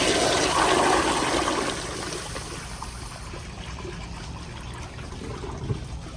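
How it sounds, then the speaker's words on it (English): A 1980s American Standard Afwall toilet flushing, a loud rushing gush of water at the start that gradually subsides into a steady, quieter trickle and refill. "here's another flush."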